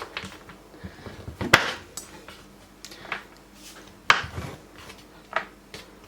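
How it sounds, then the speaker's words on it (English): Knife chops food on a wooden board while brownies are made, giving a few sharp, close knocks spaced unevenly among quieter taps and kitchen clatter. "I love like chopping things up on wooden boards, because it makes really nice noise."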